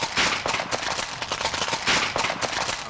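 Paintball guns firing as a game begins; rapid, irregular pops and snaps in dense bursts, loud and close throughout.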